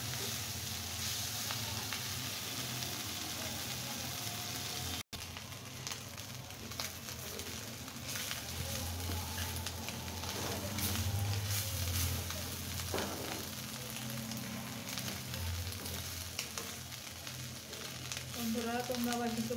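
Onion and fish fry together in an old kadai, giving a continuous crackling sizzle with occasional stirring scrapes and a voice talking faintly at times.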